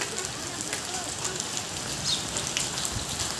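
Hailstones falling onto clay roof tiles during an ice-rain storm make a dense, continuous patter and rattle with scattered sharper clicks, close and fairly loud throughout.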